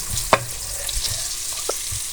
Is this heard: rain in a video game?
no